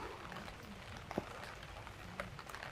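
Heavy rain falling by the Narmada riverside, a steady wash of hiss and patter with a few louder drops landing nearby, constant and fairly faint throughout.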